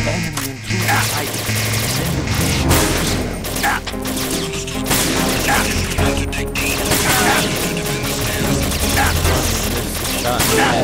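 Rapid bursts of gunfire crackle through a Metal Gear Solid 2 HD firefight on PS3, dense and continuous over game music and effects, with voices talking in the mix.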